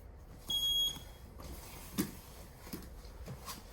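A digital timer beeps in a youth Brazilian jiu-jitsu gym, a single short, high, piercing beep followed by faint taps and quiet background sounds.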